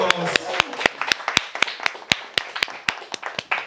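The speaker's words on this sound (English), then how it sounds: "Everybody, round of applause." A stand-up comedy crowd in Nanjing claps in a steady, rhythmic beat of sharp, close hand claps, with voices and cheering mixed underneath.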